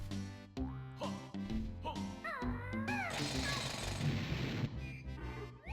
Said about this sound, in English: He's under a boulder, so we're going to have to drill the boulder.